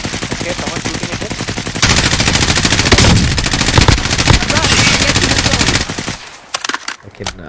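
Rapid automatic gunfire in the video game Call of Duty: Warzone, loud sustained bursts of rattling shots lasting several seconds before tapering into scattered single reports.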